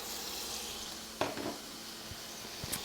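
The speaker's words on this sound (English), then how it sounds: "So next, 3 tablespoons of butter. Right in the pan." Butter, three tablespoons, sizzling in a hot pan while salmon is pan seared, a steady soft frying hiss throughout with a few faint clinks and taps of utensils, fairly close.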